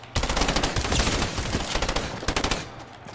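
Rapid automatic gunfire in Fortnite Season 9 rattles in a loud, dense burst that runs almost without pause, then breaks into a few sharper separate shots near the end.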